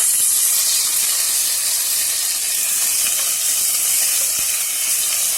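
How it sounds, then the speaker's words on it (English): Ginger garlic paste sizzling in a pan over low heat, a steady close hiss running without pause and with no voices. "now the ginger garlic paste is going to cook a little"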